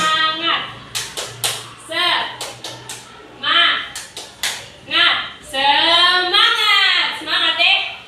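A primary school class does a rhythmic group clap chant, sharp claps in quick patterned bursts mixed with children's and a teacher's voices chanting along, close and lively in a classroom.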